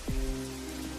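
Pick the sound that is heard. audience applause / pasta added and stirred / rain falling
rain falling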